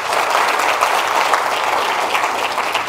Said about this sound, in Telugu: ఒకసారి చప్పట్లు కొట్టిన డాక్టర్ గారికి